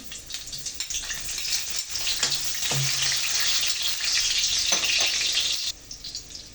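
Garlic sizzles steadily in a hot pan as string beans are being cooked, a continuous frying hiss with occasional stirring clicks, close and loud, ending abruptly.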